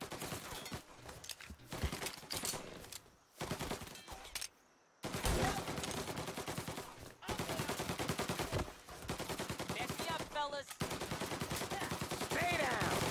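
Gunfire crackles through a firefight in Mafia Definitive Edition, with repeated bursts and volleys broken by short gaps, at a moderate level over a busy background.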